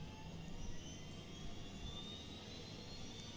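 CowanSim AS350 helicopter turbine spooling up in the X-Plane 11 flight simulator, a steady whining jet-like roar with a slowly rising tone, heard alone at moderate level.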